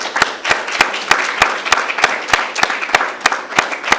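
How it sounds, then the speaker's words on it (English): Audience clapping at an awards night ceremony, a steady round of applause with individual claps distinct, fairly close and even in loudness throughout, with no talk over it. "Let's give them a round of applause."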